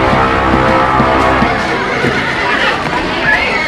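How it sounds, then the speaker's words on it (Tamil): A loud horse whinny, played as a sound effect at a Bible exhibition for the white horse of the first seal, rings out close and sustained over a reverberant hall with faint clopping. "வெள்ளை குதிரை வெளியேறுகிறது."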